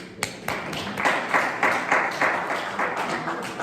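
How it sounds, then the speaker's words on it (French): A church congregation claps for a member's birthday, a fairly quiet and sparse applause of loose, rhythmic hand claps lasting a few seconds, with some individual claps standing out. "notre frère Daniel, on peut l'applaudir"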